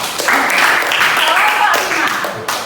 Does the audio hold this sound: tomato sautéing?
no